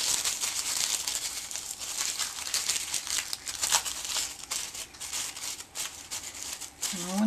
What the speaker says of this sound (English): crumple it all up.